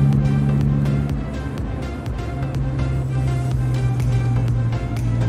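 A tuned 2009 Daihatsu Xenia with Blackcore tuning accelerates steadily in fifth gear, its engine giving a loud, continuous, even drone with a strong low hum that holds throughout.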